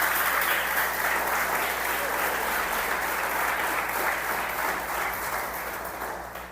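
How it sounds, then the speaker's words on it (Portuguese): A church congregation applauds loudly to praise the Lord, a thick continuous wash of clapping with some crowd voices, slowly fading toward the end. "Um aplauso ao Senhor por isso."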